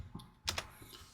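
A few quiet keystrokes tap on a computer keyboard as a web address is entered, two sharper clicks close together in the middle of a short, soft burst.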